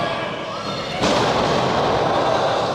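A wrestler is slammed onto the ring mat during a professional wrestling match in Philadelphia, a sudden loud thud followed by a sustained roar of crowd noise.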